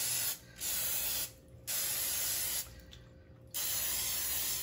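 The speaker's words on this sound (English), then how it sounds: "So I'm gonna spray them, make sure you get all the sides." Cooking spray hisses into four small loaf pans for banana bread in three close bursts, each spray lasting about a second, with short quiet gaps between them.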